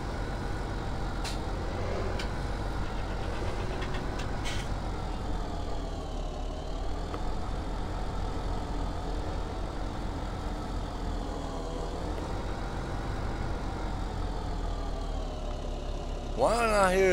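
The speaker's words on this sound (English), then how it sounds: "Why am I hearing two of these tractors?" Farm tractor engines idle and run in a steady, continuous low rumble that fills the whole stretch at an even level, with a few brief higher clanks and hisses near the start and end.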